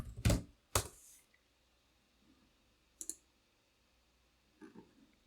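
A name is typed on a computer keyboard. A few sharp, separate key clicks come close up in small bursts with quiet gaps between them, and no voices are heard.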